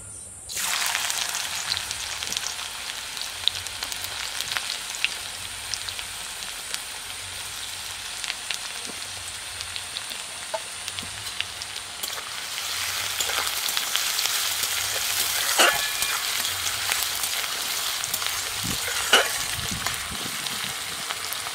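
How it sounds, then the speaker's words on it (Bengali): Chopped onion dropped into hot oil in a kadai, a soft steady sizzle that jumps in at the start and grows louder and busier later, with occasional stirring clicks and no talking. "তেল গরম হয়ে গেছে, তেলের মধ্যে দিয়ে দেবো পেঁয়াজ কুচি,"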